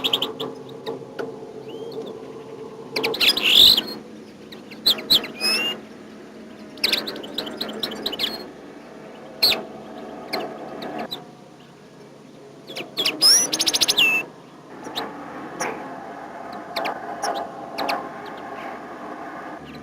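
An adult goldfinch, just released, trills and chirps in bright, repeated bursts of varying length, fairly close and clear against a quiet outdoor background.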